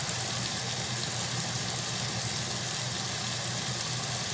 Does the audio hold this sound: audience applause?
no